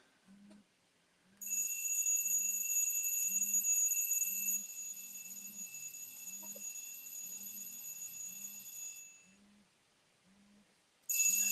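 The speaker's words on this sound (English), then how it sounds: "Oh, apologies if you can hear alarm going off." A husband's phone alarm goes off in another room, a faint repeating beep pattern in steady rhythm with a brighter, louder high tone sounding over it for several seconds, then cutting out.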